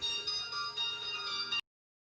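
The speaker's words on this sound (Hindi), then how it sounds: "बीच में फ़ोन आ गया था" A phone rings with a bright electronic ringtone pattern lasting about a second and a half, then cuts off abruptly into silence.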